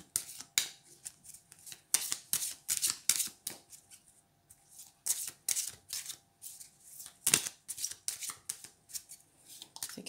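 A deck of small tarot cards is shuffled by hand in a long run of quick, close, crisp snaps and flicks, with brief pauses between bursts and no voice.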